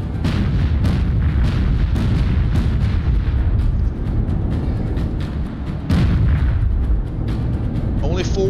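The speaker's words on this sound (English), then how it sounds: "Only forward guns are firing now." Warship guns fire in the naval combat game Battlestations Pacific, a dense run of loud, booming shots landing about once a second over constant battle rumble, with some speech mixed in.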